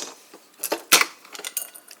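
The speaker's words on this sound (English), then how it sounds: "you put in the ice cubes" Ice cubes dropped one after another into a mug for an iced carbonated cherry espresso drink, giving a few bright, close clinks and rattles, the loudest near the middle, with quiet gaps between.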